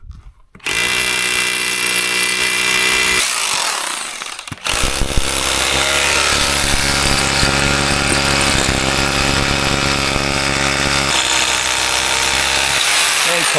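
A power drill bores holes along the edge of a heavy wall, a loud continuous grinding whine close by that stops briefly, then restarts and runs steadily with harsh rattling.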